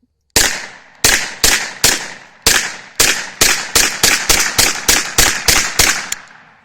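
Gunshots from a Grendel P30 pistol and a Kel-Tec Sub 2000 fired outdoors, about fifteen loud sharp reports with short echoing decays, slow at first and then in a rapid, steady string.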